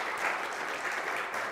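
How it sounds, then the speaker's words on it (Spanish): A church congregation applauding during a Sunday morning gospel service, a brief, steady wash of many hands clapping at moderate volume, filling the room without any distinct voices. "Démosle un aplauso al Señor por este glorioso evangelio"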